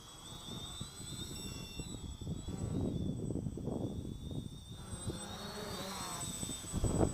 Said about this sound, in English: You wouldn't want any more control over your copter than that, would you?